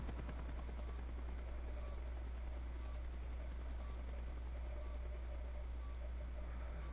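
A helicopter drones steadily in a video game, its low rotor hum constant throughout, with a sharp electronic beep repeating about once per second over it.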